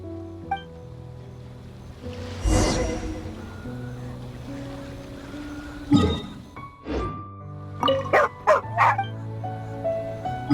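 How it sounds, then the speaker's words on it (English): A dog barking and whimpering in the video game Genshin Impact, a few sharp barks and yips scattered over a soft sustained musical backdrop, with a quick cluster of yelps toward the end. "Oh, alright, there's a good dog. Calm down."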